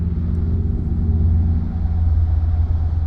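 Military vehicles moving toward the Ebro front in the Spanish Civil War: armoured cars, tankettes, motorcycles and trucks. Their engines make a steady, heavy low rumble that carries on unbroken and close, with no voices.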